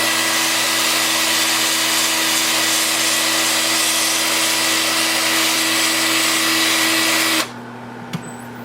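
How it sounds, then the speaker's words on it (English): Wood turning with flat spots sanded by a 2-inch power sanding disc, a loud continuous whirring drone with steady tonal hum that cuts off abruptly near the end, leaving quiet motor hum, no talking. "I'll sand those with my 2-inch disc like this"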